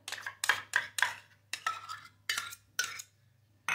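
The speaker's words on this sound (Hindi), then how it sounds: "और बस अच्छी तरह से मिक्स कर लेंगे।" A spoon stirs mayonnaise and ketchup sauce seasoned with sugar, black pepper and salt in a bowl, with a series of close, sharp clinks and scrapes in an uneven rhythm, about eight strokes.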